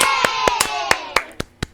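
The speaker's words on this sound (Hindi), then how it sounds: "हम लोग स्टार्ट करते हैं और उससे पहले हमारे लिए थोड़ी सी तालियां बजा दी जाए" Scattered, uneven hand claps from a small audience, about seven distinct sharp slaps spaced irregularly over a held tone, loud and close, with a voice faintly present.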